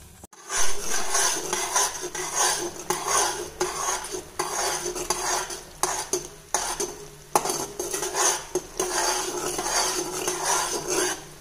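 Metal pots and utensils clinking and scraping while dissolved jaggery syrup is strained in a kitchen, a busy irregular run of close clatters and stirring knocks with no talk.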